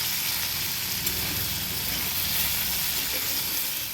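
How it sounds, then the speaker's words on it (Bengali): Jackfruit seeds frying in a generous amount of hot oil until reddish, a steady dense sizzle running throughout at an even, close level with no voices. "কাঁঠালের বীজগুলোকে আমি একটু বেশি করে তেল দিয়ে প্রথমে লাল লাল করে ভেজে নেব"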